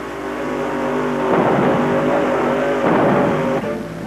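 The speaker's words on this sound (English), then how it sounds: "any engine with plenty of roaring power that can be adapted." A modified tractor-pull engine roars loudly and steadily, revving up in two surges with a harsh, throaty drone.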